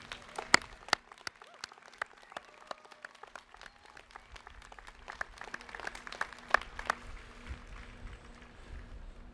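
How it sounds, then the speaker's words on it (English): Audience applauding graduates at a college degree ceremony, scattered claps at first that thicken into steady clapping from a hall crowd, fairly faint and somewhat distant. "we should give all of them a round of applause for what they've achieved and what they're going to achieve"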